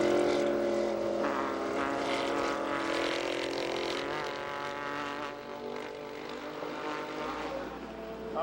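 Race cars roar past at the 1990 Sebring 12 Hours, including a Porsche 962 and Mazda GTO entries, a loud sustained engine drone swelling and fading as the faster cars go by on the inside.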